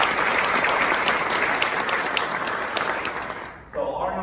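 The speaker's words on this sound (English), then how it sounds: "So I think they deserve another round of applause for this." A conference audience at a DEI talk applauds in a loud, dense burst that tapers off after about three and a half seconds, followed by a speaker resuming.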